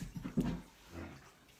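A puppy whimpers and whines in short, soft, nasal bursts close by, a brief string of yips fading into a quieter whine.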